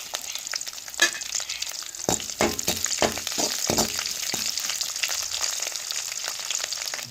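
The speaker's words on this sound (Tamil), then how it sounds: "எண்ணெய் சூடாயிருச்சுங்க கடவுளுந்து போட்டுக்கிறோம் ரெண்டு கருவேப்பிலை போட்டுக்கிறோம் வெட்டி வச்ச வெங்காயத்தையும் சேர்த்துக்கிறோம்" Chopped onions and curry leaves hitting hot oil in a pan, a dense continuous sizzle with a cluster of sharp spatters and stirring clatters in the middle, close and fairly loud, with no talking.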